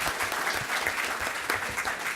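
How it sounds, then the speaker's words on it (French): A conference audience at an entrepreneurs' fair bursts into dense, steady applause, many hands clapping at once at moderate distance, filling the room without pause. "Tout le monde l'applaudir"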